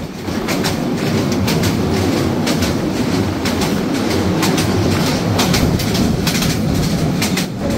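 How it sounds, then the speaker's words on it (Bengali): Chittagong Mail passenger train crossing the Ghorashal railway bridge over the Shitalakshya river at night, heard from inside a cabin: a loud, steady rumble with rhythmic clickety-clack of wheels on rail joints throughout. "এখন আমরা অতিক্রম করে যাচ্ছি শীতলক্ষ্যা নদীর ওপর নির্মিত ঘোড়াশাল রেলওয়ে ব্রিজ"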